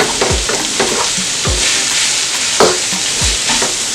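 Plantain pieces for a vegan dodo gizzard alternative fry in hot oil, giving a steady loud sizzle broken by a few sharp utensil scrapes and knocks against the pan.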